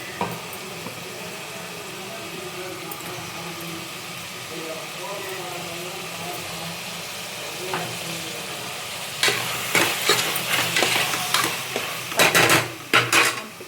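Marinated prawns, rubbed with salt and turmeric, go into frying biryani masala and are stirred, with steady sizzling throughout and louder scraping, clattering stirs near the end.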